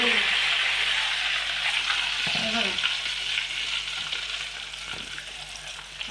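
Butter simmering into ghee in a pan, a steady broad frying sizzle that holds throughout at close range, fading slightly toward the end, with a brief spoken word partway through.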